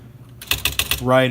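Smith Corona XE-1950 electric typewriter typing up close, four sharp mechanical key strikes in quick succession followed by a brief whirring carriage or function hum.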